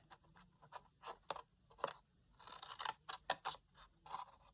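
Scissors snipping cardstock at close range, a quick series of crisp, separate cuts with short pauses between them, quiet and with no talk over them.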